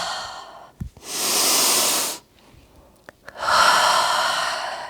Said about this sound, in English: Take a round of breath.